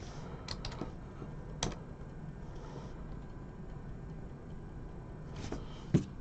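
Quiet typing on a computer keyboard comes in scattered bursts of light clicks, with a louder knock near the end, over a faint room hum.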